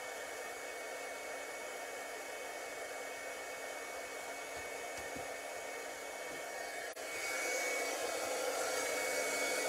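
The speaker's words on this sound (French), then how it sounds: "On va réchauffer notre fusil encore." Embossing heat gun for paper crafting and card stamping blows steadily as a constant airy whoosh, close and fairly loud, with a brief dip near the end before it continues slightly stronger, no talking.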